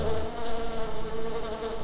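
A fly buzzes steadily in The Plan video game, a continuous droning hum with slight wavering in pitch and loudness, close and alone without speech.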